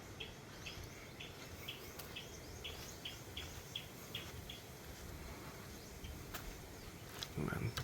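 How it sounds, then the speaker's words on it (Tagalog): Small birds sing on a farm in a repeated run of short chirps, which fades after a few seconds over a steady background hiss of insects. A brief louder disturbance comes near the end. "so dami naman kumakanta ng ibon"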